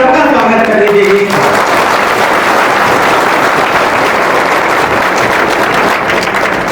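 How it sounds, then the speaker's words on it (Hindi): Loud, sustained applause from a crowd at a political public rally in Ambedkar Nagar, starting after a brief voice at the outset and continuing as a steady dense roar of clapping for several seconds. "तो एक बार जोरदार ताली बजा करके सबका स्वागत कर लीजिए"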